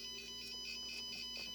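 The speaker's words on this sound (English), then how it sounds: "my hazardous gas sensor going off" A hazardous gas sensor alarm sounds a faint, steady electronic tone with a repeating warble, pulsing about every third of a second, heard alone at low level.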